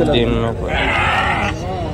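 Goats bleating at the Angallu sheep market, several loud close calls in quick succession, mixed with background crowd chatter.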